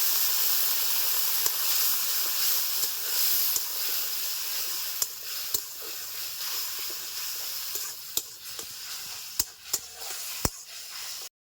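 Spice paste with chilli powder, coriander powder, salt, chopped tomato and water fries in a pan for a fish curry, a steady close sizzle and hiss broken by sharp ladle clicks and scrapes against the pan, growing more frequent toward the end.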